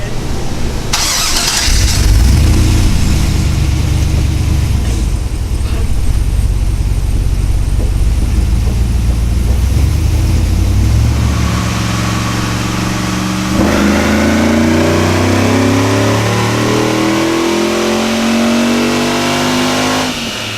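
A 2016 Jeep Wrangler JKU on a chassis dyno starts up, idles, then revs hard through a rising, sustained pull, loud and close throughout.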